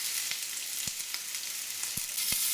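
Ox cheeks dusted in flour browning in a hot pan, a bright steady sizzle with a few soft clicks and taps of the pan standing out close by.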